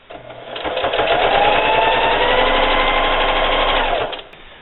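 A sewing machine stitching a fabric tortilla warmer runs in one steady, fast mechanical whir for about three seconds, ramping up at the start and stopping at the end, close and clear.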